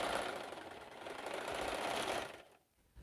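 A home sewing machine running loudly in a steady, continuous rattling whir for over two seconds, then stopping abruptly, with a brief faint sound afterward; it clatters as if it needs oil.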